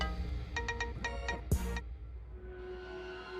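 A short electronic phone ringtone plays a few rapid repeated tones, then a sharp burst, over a low background hum; brief and fairly close.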